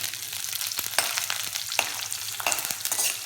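Onions sizzling and frying in a pan for a spice-box tamarind curry, with repeated sharp scrapes and clinks of a spoon stirring them, all steady and close with no talk.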